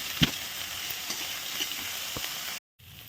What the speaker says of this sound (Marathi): थोड्या तेलात फ्राय करायचं तर आधी कांदा फ्राय करू थोडा